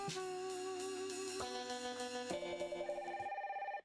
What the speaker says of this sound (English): Phone starts ringing.